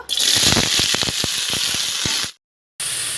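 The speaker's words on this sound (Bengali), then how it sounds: "তেল গরম হয়ে গেছে, ফুলকপি আর আলুটা ভেজে নেব।" Cauliflower and potato frying in hot mustard oil in a pan, a loud steady sizzle with scattered pops and crackles, cutting to silence briefly before the sizzle resumes.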